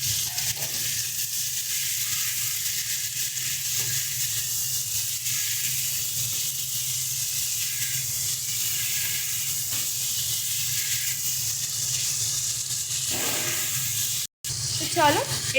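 Green tomatoes cooking in a pan with turmeric, salt and mustard paste, a soft continuous sizzle and hiss with faint stirring, low and steady throughout.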